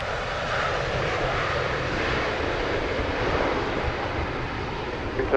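A Bahamas Air airliner at Montego Bay airport in Jamaica drones with a steady, broad jet engine roar, loud and continuous throughout with no voices.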